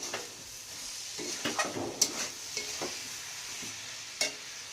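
Cabbage curry sizzles in a pan under repeated stirring, with soft scrapes and occasional sharper clinks of the spoon against the metal, close and moderately quiet, with no voices.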